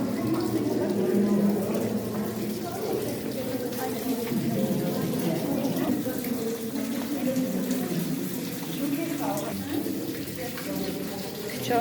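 Water runs steadily from a tap as it is collected at the Garni temple and Geghard area, a continuous splashing flow under faint background voices throughout.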